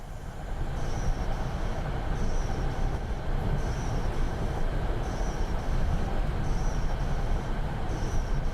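MBTA commuter train braking in the Boston Commuter train simulator game, a steady rumble of rolling wheels with faint periodic high squeals repeating every second or so, no talk.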